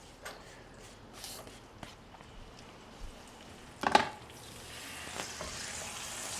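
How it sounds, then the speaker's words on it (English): Cutlets frying in oil in a home kitchen during a cooking challenge, a soft steady sizzle running under scattered clatter and footsteps, with a louder clunk near the middle and the frying growing brighter toward the end. "Oil to fry the gosh dang cutlets"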